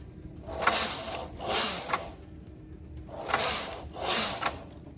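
A knitting machine carriage is pushed across the bed in four rhythmic passes, each a loud mechanical whirring clatter with short pauses between, close and alone.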